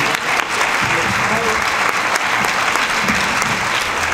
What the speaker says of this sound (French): On peut encore applaudir notre lauréat.